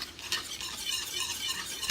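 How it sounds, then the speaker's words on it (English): Apple pie filling mixed with Clear Jel being stirred in a bowl, a brief close scraping and swishing with soft clinks, fairly quiet and without talk. "I want to stir this up a little bit"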